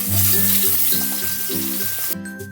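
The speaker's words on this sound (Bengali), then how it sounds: "এবার লতিগুলো আমি ভেজে নেব কড়াই দিয়ে।" Taro stolons (kochur loti) fry in hot oil in a wok, a loud, steady, crackling sizzle that cuts off sharply near the end, with no voices.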